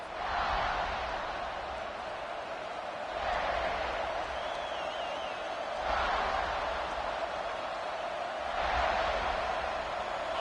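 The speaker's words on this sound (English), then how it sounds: "This crowd ready to make its presence known." A large crowd roars steadily at an American football game, a dense, distant wash of cheering that swells in waves every few seconds.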